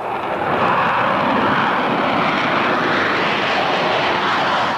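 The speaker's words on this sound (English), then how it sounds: "It's the ATF, Advanced Tactical Fighter, and it's designed to replace the Air Force's F-15 fighter jet." An Advanced Tactical Fighter jet prototype roars overhead at Edwards Air Force Base, a loud, steady, broadband engine rush that fills the whole stretch without letting up.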